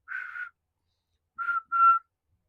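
A person whistles three short tones in imitation of a train whistle: one long blast, a pause, then two quick notes.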